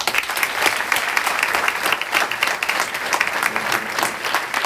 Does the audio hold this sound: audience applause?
yes